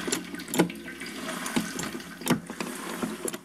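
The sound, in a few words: apple juice running from cider press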